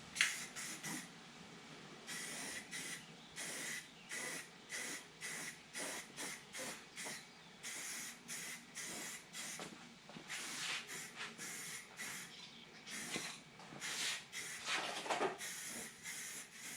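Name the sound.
spraying primer paint on a model rocket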